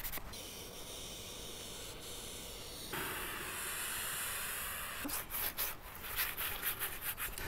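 Brown dye is rubbed by hand into a wooden film prop weapon, giving a steady, close, hissing friction that changes texture midway and breaks into short scrubbing strokes near the end.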